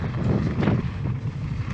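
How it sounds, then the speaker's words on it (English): Strong wind buffets the microphone on an exposed trail beside a cliff edge during a race practice lap, a continuous loud low rumble with gusty surges. "Man, it's windy."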